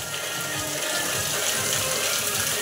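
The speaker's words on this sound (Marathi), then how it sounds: "एकदम फास्टवाली बारिश चालू झाली आहे बघा" Heavy, fast monsoon rain pours down steadily in a close, dense wash of noise that holds even and loud throughout, with no voices over it.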